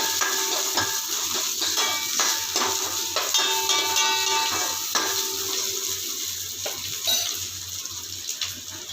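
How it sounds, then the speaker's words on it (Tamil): Onions sizzling in hot oil after mustard seeds have popped, on a low flame for a Tamil coconut milk rasam; steady close frying hiss with light stirring and utensil clinks, no talking. "கடுகு பொரிஞ்சிருச்சு இப்போ வெங்காயம் போட்டுக்கலாம் வெங்காயம் ரொம்ப வதங்கணும்னு இல்லை லைட்டாக வதங்கினாலே போதும்"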